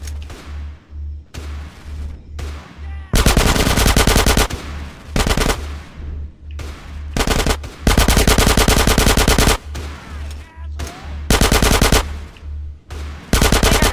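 Heavy automatic machine gun fire in Grand Theft Auto: San Andreas, loud sustained bursts several seconds long alternating with choppier rhythmic volleys, up close and with no talk.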